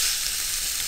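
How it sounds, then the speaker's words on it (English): Ground beef hits a ripping hot pan pulled from a Roccbox pizza oven, giving a loud, steady, close sizzle of frying meat with no voices. "We're gonna add our ground beef to the pan."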